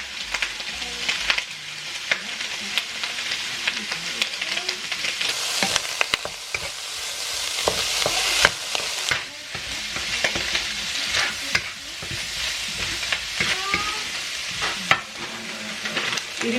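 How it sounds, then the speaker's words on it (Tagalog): Bacon sizzles and crackles steadily in a hot pan, with occasional scraping and stirring sounds close by. "Tapos bacon. Isutay ko muna to para medyo crunchy."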